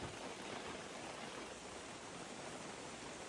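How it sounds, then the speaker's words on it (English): Steady, soft hiss of rain falling around a cabin campsite in Forillon National Park on Quebec's coast, faint and continuous with no talking. "Oh yeah, it's raining."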